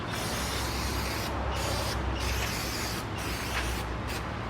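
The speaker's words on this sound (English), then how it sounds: "Hit it with a light coat of brake clean, then flip it over." Brake cleaner sprays from an aerosol can onto a brake rotor in a series of loud hissing bursts separated by brief pauses, up close with no talk.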